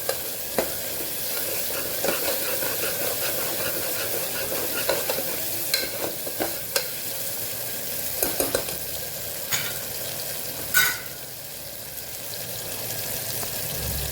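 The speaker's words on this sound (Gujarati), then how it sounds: "તેલ છૂટું પડે ત્યાં સુધી આપણે મસાલાને સાતળવાનું છે।" Spiced masala sizzles steadily in hot oil in a pan for a Kathiyawadi bottle-gourd dal dish, broken by sharp scraping strokes of a spoon stirring at irregular intervals.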